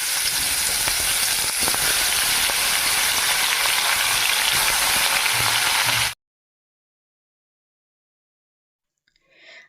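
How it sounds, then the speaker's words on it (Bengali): Paneer coated with salt and turmeric fries lightly in a pan, giving a loud, steady, close sizzle for about six seconds before cutting to silence, then a faint rustle at the very end. "পনিরটাকে অল্প একটু নুন আর হলুদ মাখিয়ে দিচ্ছি, আর তারপরে এগুলোকে হালকা ভেজে নেব"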